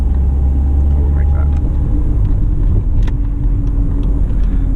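A Mercedes W201 180E engine hums with a steady low rumble and road noise from inside the car while driving, constant and fairly loud, with a person talking over it.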